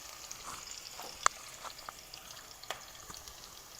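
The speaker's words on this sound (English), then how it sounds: "Our onions are caramelizing really nice." Onions caramelizing in a pan sizzle softly and steadily, with a few sharper pops and crackles scattered through a quiet background. No one talks.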